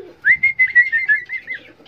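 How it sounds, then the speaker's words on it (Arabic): A male cockatiel calls from inside the nest during mating, giving a close, clear series of about eight rhythmic whistled notes that rise and fall and then fade. "بص هيخش جوه اهو ويبدا بقى ينادي على وفاء، يبدا نعمل لها نغمات جوه العش بيحفزها على التزاوج."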